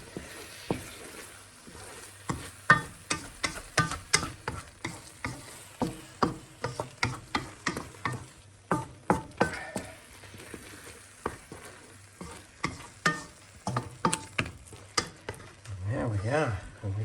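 Spoon scraping and stirring curry sauce around a hot pan, a steady run of close, sharp scrapes with a low sizzle underneath, building to a louder bubbling fry near the end.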